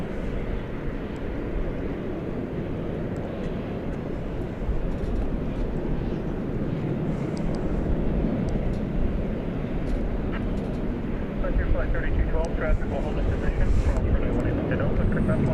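A tri-jet aircraft's engines roar at DFW Airport at night, a loud sustained low rumble that swells slightly over time, with someone talking continuously over it.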